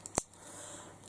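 Small scissors are handled, giving a single sharp metallic snip-click near the start, followed by quiet room tone.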